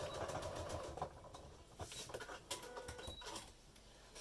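A sewing machine stitches across the bottom seam of a sewn make-up bag, running back and forth in a quiet, close, rapid mechanical patter with small pauses and restarts.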